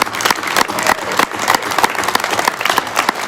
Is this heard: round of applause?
yes